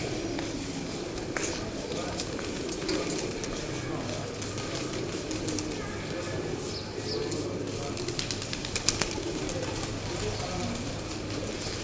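Flock of pigeons at the Hazrat Shahjalal shrine, soft cooing and occasional wing flutters scattered over a busy murmur of people talking and moving nearby.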